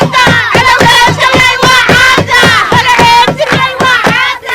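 A crowd claps steadily while high, trilling ululation rings out loudly over the applause, with several voices joining in.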